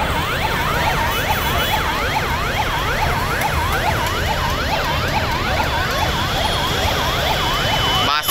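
An ambulance siren wails continuously in a rising and falling pattern, loud and close, while the vehicle sits stuck in a traffic jam on a crowded road with steady traffic noise beneath.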